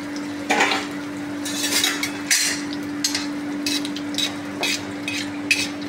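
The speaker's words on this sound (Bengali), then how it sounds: "আমি আগে বড়িটা ফ্রাই করে নিলাম।" Bori lentil dumplings frying in hot oil in a wok, with a low steady sizzle broken by repeated sharp scrapes and clanks of a utensil stirring against the metal pan.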